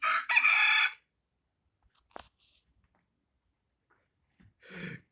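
A phone alarm tone that mimics a rooster's crow sounds loudly for about a second, then falls quiet apart from a brief click and a short voice near the end.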